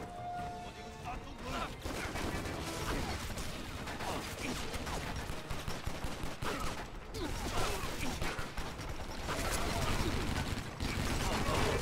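Dense, rapid rifle gunfire in the video game Stranglehold, continuous crackling bursts with crashes and impacts layered throughout, loud and busy with a voice faintly beneath.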